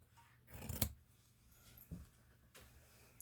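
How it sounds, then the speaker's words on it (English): Scissors snip through wool fabric seam allowances on an 18th-century frock coat sleeve: three quiet, crisp cuts spaced about a second apart, close by, in an otherwise quiet room. "cut my seam allowances."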